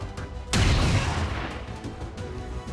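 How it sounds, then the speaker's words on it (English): A single loud, close gunshot in XCOM 2: War of the Chosen bursts out abruptly and rolls into a long, rumbling boom that slowly decays over steady game ambience, with no talk. "let's just take the shot"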